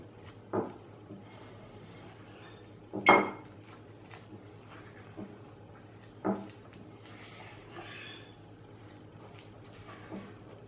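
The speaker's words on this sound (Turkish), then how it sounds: "tekrar karıştırıyorum." Cookie dough for wet brownie cookies being mixed in a bowl after baking powder goes in, quiet scraping with a few sharp clinks and knocks of a utensil against the bowl, close and sparse, with no talk.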